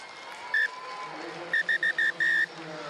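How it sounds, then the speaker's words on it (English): A referee's whistle at a women's Six Nations rugby match between France and Italy shrills once briefly, then sounds in a run of four quick blasts and one longer final blast over steady crowd murmur. "the half-time whistle is blown"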